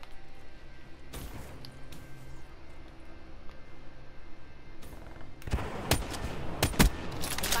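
Gunfire from a one-shot weapon in Call of Duty: Black Ops III, with a sharp shot early on and a cluster of loud, close shots near the end over a steady game background hum.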